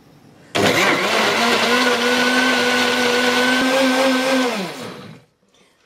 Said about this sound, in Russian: И включаем блендер.